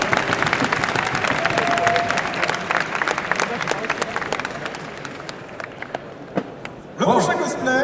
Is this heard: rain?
no